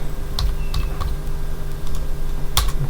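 Fingers tap on a computer keyboard in short, irregular bursts of clicks over a low steady hum, fairly close and moderately loud.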